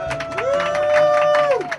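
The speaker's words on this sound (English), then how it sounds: "Please give him a round of applause" An audience at a startup pitch competition cheers and claps for a prize winner, a dense crowd roar with a sustained whoop or whistle rising over it for most of the two seconds.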